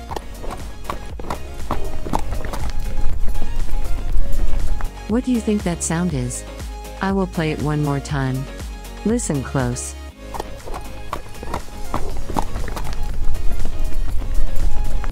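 Rhythmic hoof clip-clops of a trotting horse, steady and fairly close, with a voice talking over parts of it.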